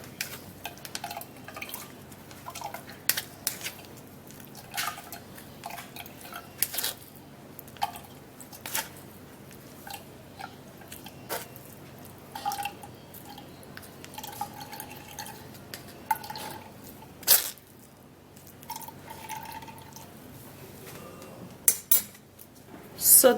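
Ginger is pressed through a sieve, with scattered metallic scrapes and taps of a spoon against the mesh and bowl and soft drips of juice between them, close and fairly quiet.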